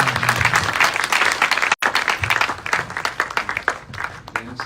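A church congregation claps in welcome for Brother Roshan, a steady, loud wash of applause filling the room, briefly cut by a short dropout before continuing with faint voices mixed in.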